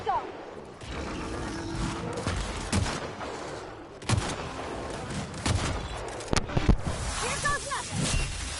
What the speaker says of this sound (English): So I'm gonna shoot him